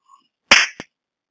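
A single sharp hand clap, used to trigger a robot dog toy, cracks loudly and close, followed by a quick faint echo-like slap and a brief electronic beep just before it.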